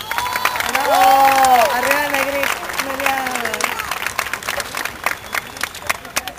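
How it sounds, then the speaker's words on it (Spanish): Concert audience at a show in Venezuela, 2009, applauding the drummer: a loud, steady wash of clapping and cheering that slowly fades, with a singer's sustained voice ringing over it early on. "Un fuerte aplauso por él."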